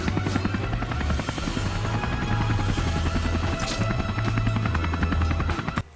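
Helicopter in a Spider-Man fan film scene, its rotor beating in a fast, steady chop that stays close and loud for several seconds before cutting off abruptly, with no talking.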